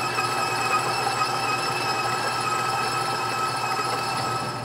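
A stand mixer creams butter in a bowl at slow speed for a cookie dough, giving a steady, close motor whine that hums on without a break and with no talking over it.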